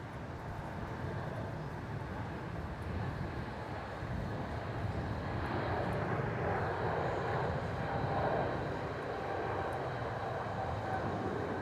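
A Qatar Airways airliner lands at Melbourne Airport: a broad, steady jet roar that swells slightly midway, heard from a distance under some wind noise, with no talking.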